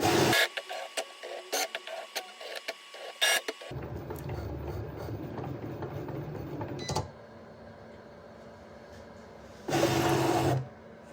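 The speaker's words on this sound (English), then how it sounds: "it's going to read those sensors and then cut everything out for us" A Cricut cutting machine reads its sensors and cuts temporary tattoo material, giving close mechanical whirring and clicking with sharp bursts of motor noise, then a steadier hum and a final loud buzzing pass.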